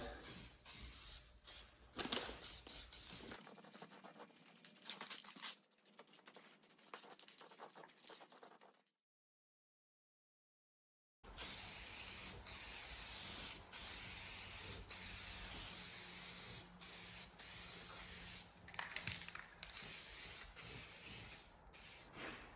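Spray paint hissing in bursts as a light first coat goes onto a John Deere LA145 lawn tractor, close and steady, with a short silent gap midway and no talk.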